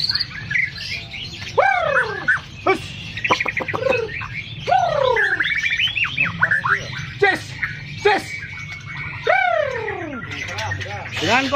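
A caged songbird of large, stocky build sings loudly and up close, delivering rapid sweeping whistles, trills and chirps in repeated phrases over a low background rumble.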